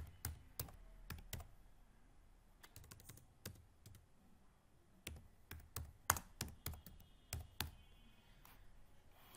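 Keys on a computer keyboard clack in quick bursts while a caption is typed, with sharp separate taps grouped in runs and short pauses between them, close and alone.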